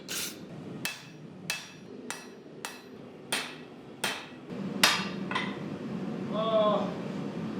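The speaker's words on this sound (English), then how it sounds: "I could just start forging the blade from the bar stock" Hammer forging a steel katana blade from bar stock, about ten evenly spaced, ringing metallic blows close by, then a brief quiet scrape and a voice near the end.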